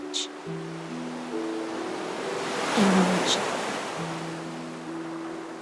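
Ocean waves in the Honkai Star Rail video game, a steady broad wash of surf under soft sustained musical tones, swelling briefly in the middle, with a single spoken word near the start.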